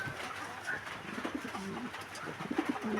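Fancy pigeons coo softly nearby in a series of low, throaty calls, some overlapping, with light background noise and a faint voice.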